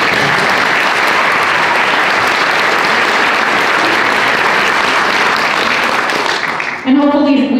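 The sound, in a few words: audience giving a round of applause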